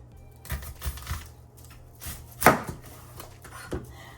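A knife chops an onion into thin pieces on a cutting board while making potato salad: a few sparse, crisp taps, a short pause between cuts, and one sharper chop near the middle, close and fairly quiet.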